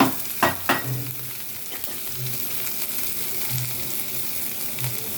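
Garlic paste and spice paste frying in a pan for a fish curry with eggplant, potato and tomato, a close steady sizzle broken by a few sharp spoon scrapes and clatters as it is stirred.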